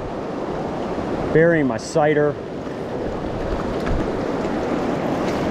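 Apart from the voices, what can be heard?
wind blowing by a river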